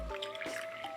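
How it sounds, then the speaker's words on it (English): Shou puerh tea, a dark aged brew, pours into a cup in a short, close trickle with a faint dripping splash, heard alone without voices. "and then I will go ahead and pour mine."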